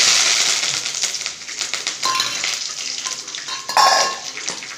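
Mustard seeds and curry leaves sizzling in hot oil for a tempering, a loud close crackling hiss with spatters and scraping pan noises throughout, briefly intensifying near the end.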